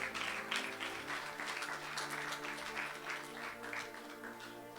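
A church congregation claps in acclaim of the Lord, a dense, fairly distant patter of many hands that continues evenly for several seconds and then gradually eases.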